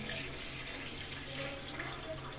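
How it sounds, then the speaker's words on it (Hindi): Water pours steadily into a pan for cooking water chestnuts, a continuous, soft rushing flow heard close and fairly quiet throughout, with no talk. "मैंने पैन ले लिए हैं, अब इसमें ऐड कर दूँगी पानी।"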